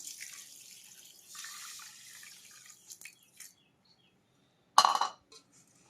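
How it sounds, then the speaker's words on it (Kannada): Water poured over sugar in a vessel to start a syrup for badam puri: a short trickle and splash with light clinks and a sharper splash near the end, fairly close. "ಇದಕ್ಕೆ ಅರ್ಧ ಬಟ್ಲದಷ್ಟು ನೀರು ಹಾಕೊಳ್ಳಿ"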